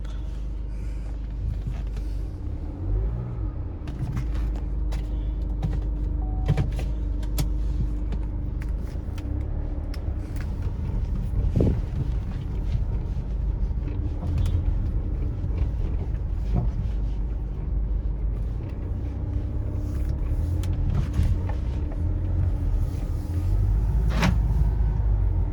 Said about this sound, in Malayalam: ഇനിയിപ്പോൾ നമുക്കൊന്ന് വണ്ടി ഒന്ന് ഡ്രൈവ് ചെയ്ത് നോക്കാം.